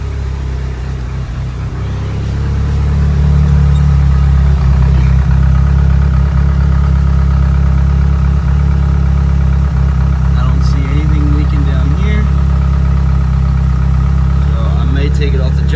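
A DSM car engine, checked for a fuel leak, cranks and settles into a steady low idle about two seconds in, running continuously and fairly close, with some faint clanks and background sounds over the hum.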